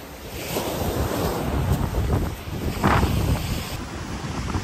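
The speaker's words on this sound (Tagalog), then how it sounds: "Grabe, taas ng hangin." Strong wind at a beach resort in San Juan, Batangas, buffeting the microphone in loud gusts over a constant wash of surf, with a brief brighter swell near the end.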